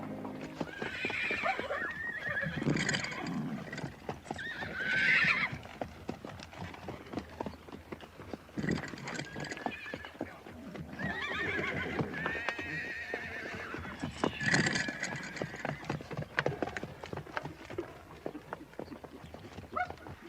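Several horses whinny and neigh loudly while hooves clop in a busy, uneven patter, with occasional barking in the mix.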